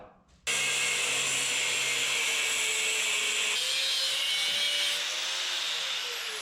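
Thick steel is cut for a 1967 Toyota Stout 3-link suspension build by a power tool that starts abruptly and runs as a loud, continuous, close grinding whine for several seconds, with no talking.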